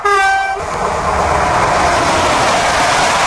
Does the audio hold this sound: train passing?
yes